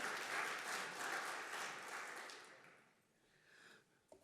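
Audience applause at a Chief Risk Officers Summit welcoming a speaker to the stage, a dense steady clapping that swells for a couple of seconds and then thins out, followed by a brief quieter lull and a small knock at the end.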